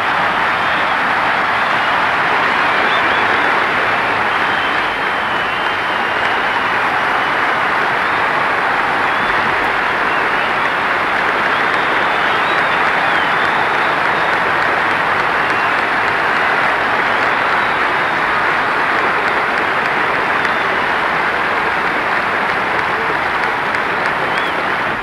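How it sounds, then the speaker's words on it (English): A standing cricket crowd at a 1971 Australia v World XI Test gives a long, loud ovation to Gary Sobers as he leaves the ground after making 254, an unbroken roar of clapping lasting the whole stretch. "The crowd is standing to applaud Gary Sobers as he leaves the ground."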